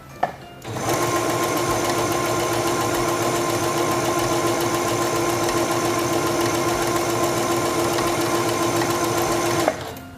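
A Singer 7258 computerized sewing machine stitches fabric in a steady, fast mechanical whir with a regular needle rhythm, starting after a brief pause and stopping abruptly near the end, close and alone.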